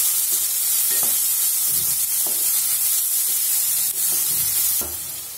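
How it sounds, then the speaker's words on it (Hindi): Chopped cauliflower for gobi bhurji frying in a hot pan, a steady loud sizzle broken by repeated scraping stirs of a spatula every second or so, with no voices. "गोभी हमारी फ्राई हो चुकी है"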